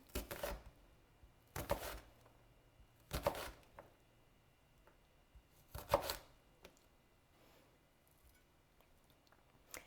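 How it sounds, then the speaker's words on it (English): A knife making vertical cuts through an onion on a cutting board: four crisp, close chopping strokes spaced a second or more apart, each a sharp crunchy knock, with quiet pauses between them. "Next, you'll flip the onion and make vertical cuts going towards the root end."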